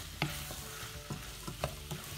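Butter being gently stirred into a separating sauce for ling, with soft repeated scrapes and light clinks of a utensil against the pan over a faint sizzle, close and steady, no voices.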